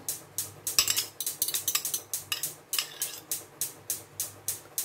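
Rice patty ingredients mixed in a bowl with a utensil, giving a fast, regular run of close clinks and scrapes, about three strokes a second, with no voices.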